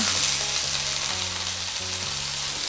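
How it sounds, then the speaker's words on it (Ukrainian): Loud, steady sizzling and crackling of vegetables frying in hot vegetable oil, continuous throughout with a faint low hum beneath. "Наша олія розігрілася, засипаємо овочі."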